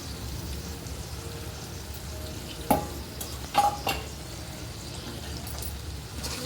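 Chicken biryani with coriander and mint is stirred in a pot, giving a steady low sizzle with a few sharp scraping knocks of the utensil partway through, close and fairly quiet, with no one talking.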